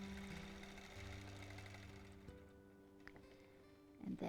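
A long arm quilting machine stitching in the ditch along a quilt's top edge, a quiet steady mechanical hum that slows and shifts pitch, ending with a brief louder clunk.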